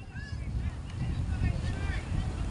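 Strong wind buffets the microphone with a steady low roar on an outdoor football pitch during a youth under-13 match, with faint shouts and distant voices mixed in.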